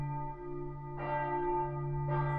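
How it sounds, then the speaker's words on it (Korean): Church bells ring out at the Fatima basilica in Portugal, two resonant strikes with long sustained humming tones carrying over a quiet open outdoor space. "종소리가 울리고 엄숙한 분위기가 느껴집니다."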